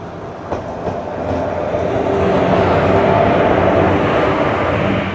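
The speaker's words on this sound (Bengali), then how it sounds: "22321 Howrah Suri Hul express ICF coach." The Howrah-Suri Hool Express with ICF coaches arriving at platform 1 of Bandel station, a loud rumbling roar of rolling wheels that builds and holds close, with faint rail clatter and no talk.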